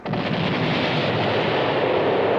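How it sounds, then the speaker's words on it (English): Cannon fire carries across a river as one loud, sustained rolling boom that echoes without fading over a couple of seconds, with no voices. "Sometimes the echoing of a cannon shooting across the water stirs up the river and brings sunken things up to the surface."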